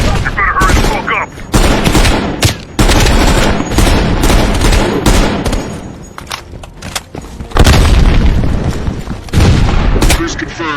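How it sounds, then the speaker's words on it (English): Heavy machine gun fire in a Call of Duty World War II battle, loud sustained bursts and rapid shots mixed with booms and explosions, continuous and dense throughout. "Heavy MG on the ridge."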